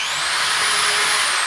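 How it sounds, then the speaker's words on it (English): A power drill with a 3/1/64 bit bores out a hole in a lid to take a press-fit bronze bearing sleeve for a wind turbine build; a steady, close, high whine runs throughout with no talk. "you're gonna open up this hole with a 3/1/64 drill"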